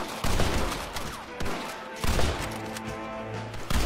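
Gunfire in Red Dead Redemption: several loud, sharp shots crack out in quick bursts, each followed by a short ringing tail, close and dominant throughout.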